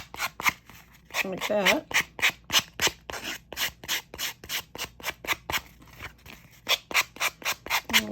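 Sandpaper is rubbed around the edges of a small handmade book in quick, regular back-and-forth strokes, close and crisp, with a brief spoken remark partway through.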